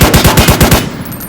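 Rapid automatic gunfire in the War Tycoon video game, seven loud close shots in a quick even rhythm that stop abruptly, followed by a short fading tail.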